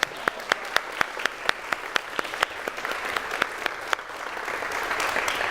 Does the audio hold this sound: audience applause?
yes